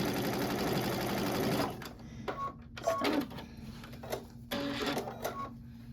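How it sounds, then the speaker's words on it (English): A Babylock Altair sewing machine sews a sashiko stitch in a fast, dense mechanical clatter for under two seconds, then stops, followed by quieter handling clicks and short bursts of machine noise. "So this is exactly how it stitches. You know, it just gives a lot of stitches."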